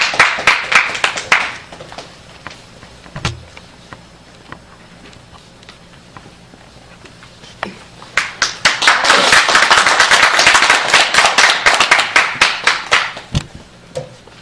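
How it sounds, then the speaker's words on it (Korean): A founding assembly audience claps to welcome an elderly speaker: a short burst of applause fades into sparse, isolated claps, then swells again into fuller clapping before breaking back into scattered single claps. "큰 박수로 맞아주시기 바랍니다"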